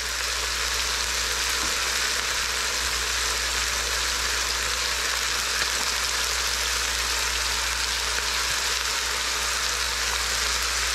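Onions go into a pot with freshly seared beef and sizzle steadily and loudly, a dense, even crackling hiss that holds unbroken for the whole stretch with no voices.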